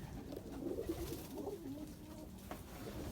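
Pet pigeons or doves cooing steadily and close by in a flooded coop after snowfall, their soft overlapping calls continuous throughout with no talk.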